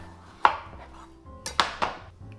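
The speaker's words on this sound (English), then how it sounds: "the first thing we're gonna do is just peel and chop a butternut squash" A knife cutting a raw butternut squash on a cutting board, with sharp isolated chops followed by a quick cluster of three knocks, close and clear in a quiet kitchen.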